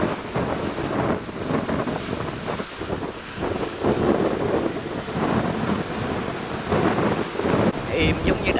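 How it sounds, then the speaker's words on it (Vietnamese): Big sea waves roll and crash around a tilting fishing boat at the harbour mouth into La Gi port, a continuous loud roar of surf and wind buffeting the microphone. "Quá trời sóng giữa biển ghê thiệt."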